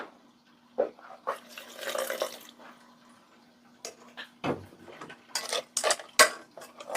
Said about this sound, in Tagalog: Haluin na natin ng mabuti.